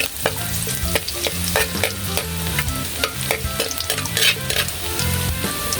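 Steady sizzling of something frying in hot oil, with stirring scrapes and a low musical backing throughout.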